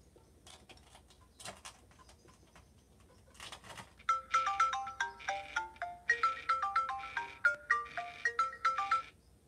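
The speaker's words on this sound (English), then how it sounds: "I got a phone call." A phone ringtone plays a bright, repeating melodic pattern for an incoming call, loud and close, starting after a few seconds of faint background clatter with no talking.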